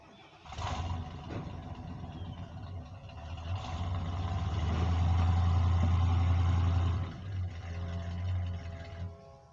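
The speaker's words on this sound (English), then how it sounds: "Yeah, I better pull the truck up." A truck engine revs up and rumbles nearby as it pulls forward during an unloading job, rising to a sustained low drone that eases off toward the end, with no speech.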